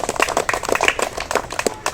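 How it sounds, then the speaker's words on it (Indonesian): A group of schoolchildren at a physical education class clap their hands together, fast, uneven claps from many hands close by, lasting about two seconds. "Tepuk tangan dulu."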